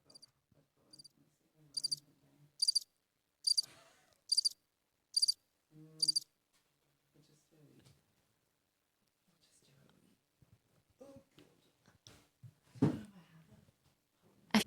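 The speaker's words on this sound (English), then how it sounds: "Let me get the cricket noise on." A recorded cricket chirp plays in short, evenly spaced bright bursts for several seconds, then gives way to people talking and moving about in a room.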